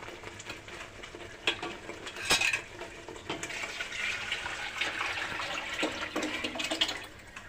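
Liquid poured into a cooking pot of Maharashtrian katachi amti on the stove, a soft continuous splashing and trickling with a few louder gushes, quiet and close, with no talk.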